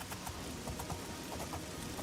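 Steady rain in the Imperial City of the video game Oblivion, a soft continuous hiss with scattered patters, as if drops tap on armor, quiet and even throughout with no talking.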